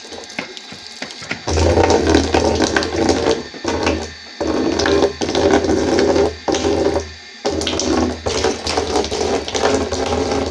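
A household electric water pump motor runs with a steady low hum and mechanical rattle, interrupted by several brief stops and restarts.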